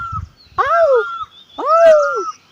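Two loud, close bird calls in the hills ring out one after another, each a harsh drawn-out cry that bends downward in pitch, with a short pause between them.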